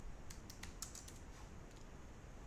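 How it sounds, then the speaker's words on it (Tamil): Quiet computer keyboard typing while entering a name on an online income certificate application form: a short run of light, irregular key clicks over a low background hiss. "மதர் நேம் இங்கிலீஷில் டைப் பண்ணிக்கிறேன்."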